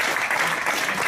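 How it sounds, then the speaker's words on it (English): An audience at an Ethereum meetup in Edinburgh breaks into a round of applause, a dense, loud, steady wash of clapping that fills the whole brief moment. "Round of applause."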